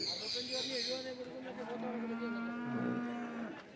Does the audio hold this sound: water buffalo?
yes